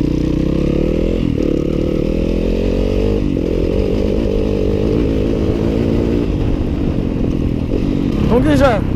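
A 2015 Yamaha WR-F 250 dirt bike's single-cylinder engine runs close and loud throughout, with several sharp revs and pitch shifts as it accelerates and changes gear.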